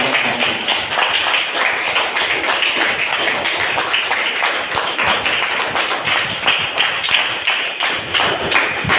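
Audience at an Independence Day speech clapping continuously, a dense stream of hand claps sustained throughout with no voice over it.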